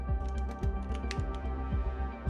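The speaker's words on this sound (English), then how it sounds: "So that's me just typing it out." Typing on a computer keyboard, a close run of quick, light key clicks over a steady low background hum.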